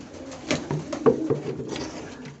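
Domestic pigeons kept by a breeder coo nearby in soft, low throaty bursts, several overlapping calls in quick succession with no talk.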